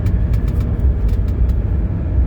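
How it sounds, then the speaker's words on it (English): A 1981 Mercedes 300SD gathers speed on cruise control from a little over 40 mph, its steady low engine drone and road rumble filling the cabin with no talking. "We're accelerating with the cruise control."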